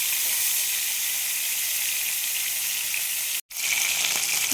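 Tilapia fish fry in hot mustard oil with a loud, dense, steady sizzle and hiss that continues throughout, broken only by one brief momentary cut near the end, with no speech.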